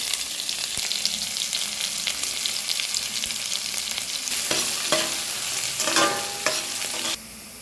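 Crushed aromatics tip into hot oil with fenugreek for a river-fish (aattuvaala) curry, sizzling steadily while a spoon scrapes and stirs the pan, the frying growing louder and crackling near the end.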